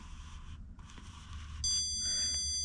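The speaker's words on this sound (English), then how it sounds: "slide slowly this stud finder until it's beeping" A handheld stud finder slid across drywall emits a sustained, high-pitched electronic beep that starts partway through and holds steady to the end, over faint room noise.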